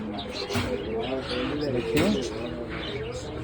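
Pigeons cooing among other birds in a bird shop in Sonaimuri, Noakhali, that also stocks parrots, mynas and starlings, with soft close coos and chirps under someone speaking briefly.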